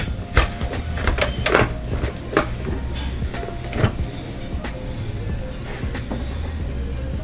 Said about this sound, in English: This screen is actually going to slide itself out as well